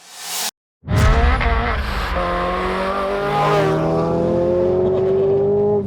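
A supercharged 350 bhp Renault Clio RS200 engine starts after a brief pause, then revs with a loud, high-pitched whine that climbs and holds steady, close by.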